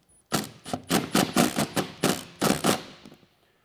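A bolt with a flat washer and P-clip being tightened into a fitting molded into a tank, heard as a rapid series of about ten close, sharp ratcheting clicks in quick bursts, then quiet.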